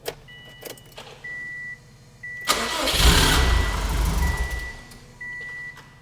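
A built Subaru STI engine fires up for the first time: a short crank, then a loud rumbling catch that settles into a rough idle, with a faint electronic beep repeating in the background.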